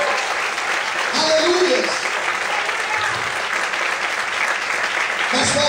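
A church congregation breaks into continuous applause during an evening service, dense clapping that holds steady throughout while a voice calls out over it.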